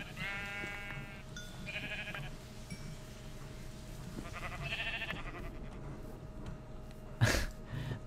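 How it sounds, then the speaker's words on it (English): Several sheep in a video game bleat in short, wavering calls, a few separate bursts spread over a quiet backdrop, closing with a sharp louder noise near the end. "Found a bunch of sheep."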